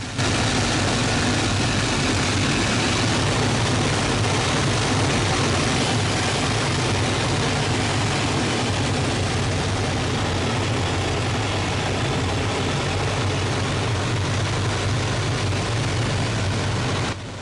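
A loud, steady piston engine of a WWII Hawker Hurricane fighter drones continuously with a deep rumbling throb, close by and unbroken, with no voices.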